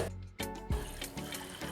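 Water pours from a vessel into a pot for a home kashayam remedy, a short steady splashing stream heard close and alone.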